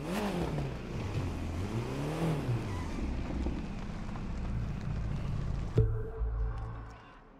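In a racing video game, a car engine revs up and down in repeated rising and falling sweeps, a sharp knock near the end before the roar fades out.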